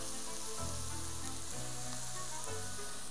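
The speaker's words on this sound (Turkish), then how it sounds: "Bu böyle sotelensin" Sauce sizzling and frying steadily in a hot pan, seasoned with chili flakes and black pepper, a continuous close crackle with soft stirring scrapes.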